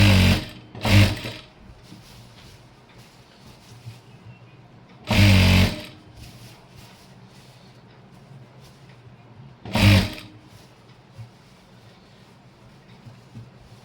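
A sewing machine stitches a chudithar pant in three short, loud runs separated by long quiet pauses, with no talk over them.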